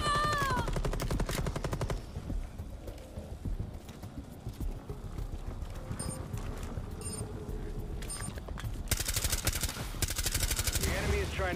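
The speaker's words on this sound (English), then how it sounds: "Yeah, he's shooting at me." Enemy gunfire in a Tom Clancy shooter game rattles in rapid repeated bursts, loud and dense at the start and again near the end, with quieter stretches of game sound between.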